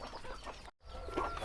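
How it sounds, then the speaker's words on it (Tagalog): Chickens and small chicks on a Filipino backyard farm cluck and peep in short overlapping bursts, close and steady, with a brief silent gap partway through. "Daming sisiw na. Daming anak ng manok, no?"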